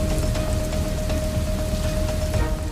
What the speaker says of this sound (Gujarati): ડીસા પંથકમાં વહેલી સવારે પવન સાથે વરસાદી ઝાપટા પડ્યા